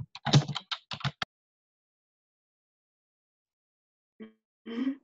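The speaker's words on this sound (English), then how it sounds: "I can't tell who's typing." Two short bursts of clicky keyboard typing, a rapid flurry at the start and a briefer patter near the end, separated by silence.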